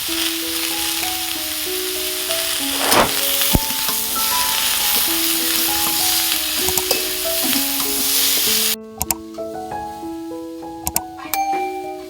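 Potatoes and tomatoes fry with turmeric and salt for a Bengali puti fish chorchori, giving a loud, steady sizzle with light metallic clinks that drops abruptly to a quieter sizzle near the end.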